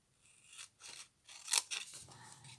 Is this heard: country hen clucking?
no